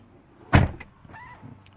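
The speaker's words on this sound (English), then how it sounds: "You can also just push this to close the door." Tesla Model X rear door closing after a button press, one loud close thump followed by a faint motor whine, heard near and alone.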